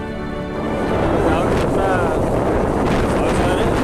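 A strong wind blows hard and continuously near Paradeep on the Odisha coast, roaring across the microphone and staying loud throughout.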